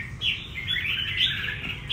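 A red-whiskered bulbul sings a bright, continuous warbling phrase, fairly close and clear over faint low background rumble.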